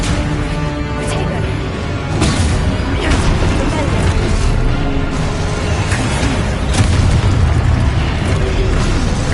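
Expulso explosive spell blasts in Hogwarts Legacy on PS5, several booming bursts at irregular intervals over a dense combat mix, with a voice heard throughout.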